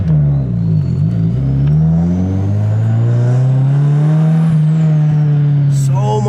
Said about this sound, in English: So much turbo noise.